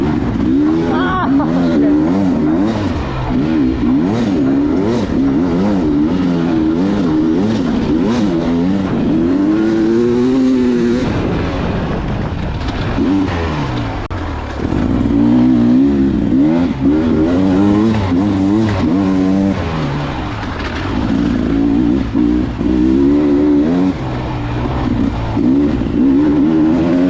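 A Beta two-stroke dirt bike engine revs hard and shifts pitch repeatedly while being ridden, loud and close throughout, with a brief easing near the middle and occasional voice sounds.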